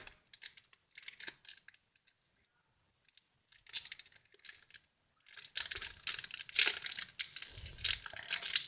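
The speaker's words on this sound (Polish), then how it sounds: "Mamy tutaj dwie saszetki. No to otwieramy." Plastic sachets of Bravo Sport trading cards being torn and crinkled open by hand, quiet sparse rustles at first, then denser, louder crackling and ripping toward the end, with no talking.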